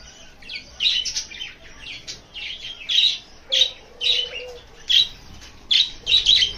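Pet parrots chirp while eating leafy greens, sharp high tweets repeating in short bursts about once a second, close and clear over a quiet room.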